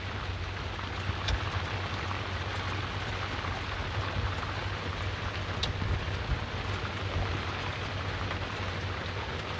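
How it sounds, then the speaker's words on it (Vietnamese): Heavy rain pours steadily during a storm on a river fishing boat in the Mekong Delta, a dense continuous hiss of drops drumming on the boat with a low rumble beneath, with no voices. "Mưa càng ngày càng lớn này."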